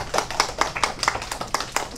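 A small group claps at a piano recital, a short run of distinct, evenly spaced hand claps lasting about two seconds, fairly close and with no voices.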